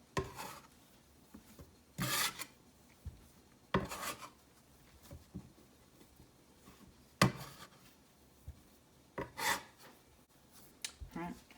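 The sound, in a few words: dough folded with flour using a bench scraper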